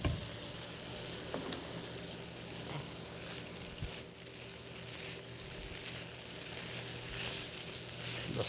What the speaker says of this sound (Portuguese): Dá só uma mexidinha no bacon.